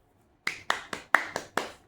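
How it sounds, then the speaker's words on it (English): Six sharp hand claps, close and distinct, in a slightly uneven rhythm, with no one talking. "I'm clapping for you because that takes heart"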